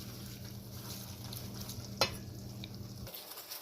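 Oil bean (ugba) is stirred into achicha, pigeon peas and cocoyam flakes, with quiet scraping under a low steady hum. A single soft utensil clink stands out midway.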